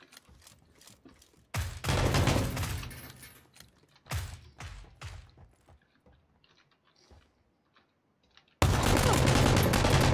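Bursts of M249 machine gun fire from a PUBG match, several loud sustained volleys separated by quieter gaps with scattered mechanical clicks, the last burst running to the end.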